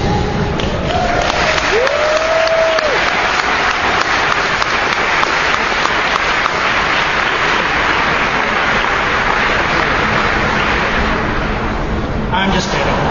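Audience applause at a BlizzCon 2008 StarCraft 2 single-player panel, loud dense clapping from a large convention crowd filling the hall continuously, with a brief tonal whoop near the start.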